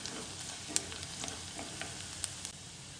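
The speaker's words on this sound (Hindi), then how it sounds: "गार्लिक थोड़ा अच्छे से फ्राई हो गया है" Garlic frying over a medium flame for Schezwan fried rice, giving a steady soft sizzle with faint scattered crackles and a few light stirring clicks.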